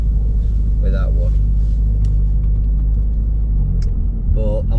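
A Jaguar X-Type Estate with a 2.2 diesel engine and automatic gearbox drives along, its steady low engine and road rumble continuous and close throughout, with a voice speaking briefly over it.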